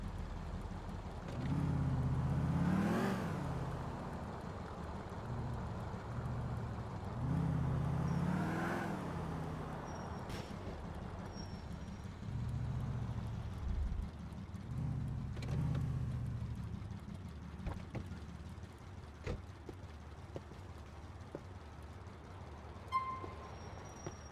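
A car engine in GTA IV with the LCPDFR police mod, rising and falling through several revving passes, loud at first and then settling into a steadier, quieter drone.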